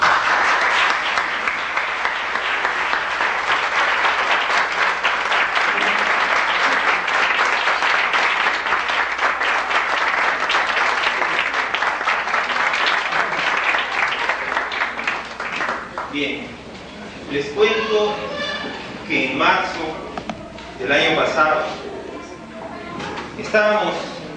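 An audience gives a sustained burst of applause for a university tuna student music group at an anniversary celebration, dense and loud for about fifteen seconds before thinning out as voices and scattered claps take over.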